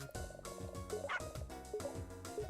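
Dog barking in the video game Shantae: Risky's Revenge, short yappy barks mixed into bright game music and chiming effects, fairly loud and steady throughout with no talking.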